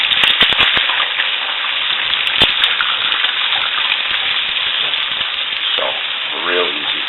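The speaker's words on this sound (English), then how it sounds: "I just love the sound of eggs cooking in the morning." Eggs sizzling and frying in a pan for scrambled eggs at breakfast, a dense steady crackle close by with a few sharp pops and a light scrape near the end.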